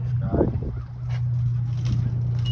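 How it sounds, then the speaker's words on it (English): A flock of birds calls overhead, giving goose-like honks scattered over a few seconds against a steady low hum of background noise. "bunch of birds in the sky."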